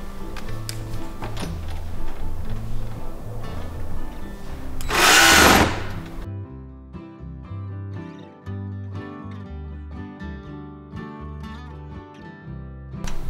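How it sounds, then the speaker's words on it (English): A power driver sinks a long screw into a panel of a chicken coop, giving a close whirring buzz that rises to a loud burst partway through, followed by ticking and clicking with a faint tonal background. "I'm using the long screw to attach the panel to our assembled coop"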